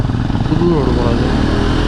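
Yezdi adventure motorcycle being ridden on a road toward Varkala, Kerala, its engine a continuous close, loud drone with wind noise, and a voice speaks over it.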